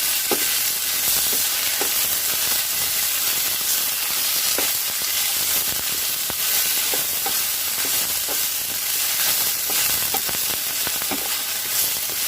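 Fresh okra fries in a pan until its sliminess cooks off, a loud, continuous close sizzle with faint scraping from steady stirring and no voices.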